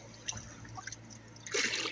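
Water trickles and splashes as it is poured into a goldfish's container to match temperatures, with faint drips early on and a louder burst of pouring near the end, close by.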